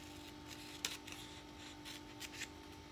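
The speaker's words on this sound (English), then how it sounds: "be very careful when you're using scissors" Quiet snipping of scissors through paper, several short crisp cuts spaced irregularly over a faint steady hum.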